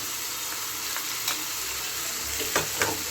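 Spice paste sizzles steadily in hot oil while being stirred for an aar catfish kalia, a constant frying hiss punctuated by a few soft scraping strokes of the spoon.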